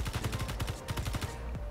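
Rapid automatic cannon fire rattles against a ship hull in the video game Space Engineers, a fast even burst of shots that stops near the end, leaving a faint background hum.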